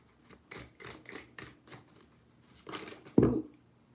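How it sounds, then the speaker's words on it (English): Tarot cards are shuffled by hand in a run of short, crisp riffling bursts, followed by a louder, sharper slap as the deck settles, close and alone. "3 shuffles."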